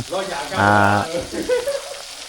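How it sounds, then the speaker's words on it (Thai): Fish frying in hot oil gives a steady sizzle and crackle in a home kitchen, with a short burst of brighter spattering partway through and soft background voices. "ทอดปลา"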